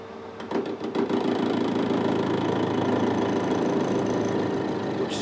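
A lathe parting off a cut in soft material, with a recently tightened headstock bearing, runs as a steady mechanical hum and rumble with no talking, starting after a brief quieter moment.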